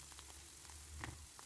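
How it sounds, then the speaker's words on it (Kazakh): Finely chopped champignon mushrooms fry in a pan, giving a faint, soft sizzle with scattered small pops and crackles that stays quiet and close, with no voices. "Барлығын біркелкі жақсылап қуырып аламыз"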